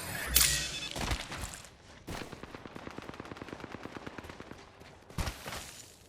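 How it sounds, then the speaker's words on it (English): Rapid automatic weapon fire in Apex Legends in a steady stream of sharp shots, bracketed by louder blasts and whooshes at the start and end. "The weapon fire can be really satisfying to hear as well."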